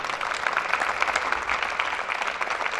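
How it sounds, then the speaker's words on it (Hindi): An audience applauds a newly arrived administrator at a welcome party in a university commerce department in Multan, a continuous, moderately loud patter of many hands clapping with no talk. "इनके लिए तालियां"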